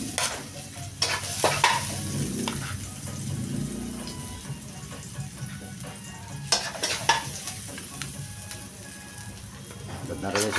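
Garlic sizzles in a pan while being stirred for pochero, a Filipino stew, with close scraping strokes and crackling frying, alongside tap-water sounds and some background talk.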